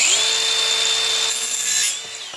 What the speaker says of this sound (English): I'm going to cut out the rough shape with the angle grinder